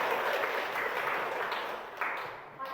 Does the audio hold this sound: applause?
yes